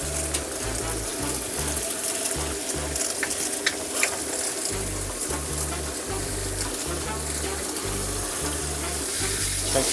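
Warm water runs steadily from a tap in a mobile dog-grooming van with a splashing hiss, while a low rhythmic thumping pulses underneath throughout.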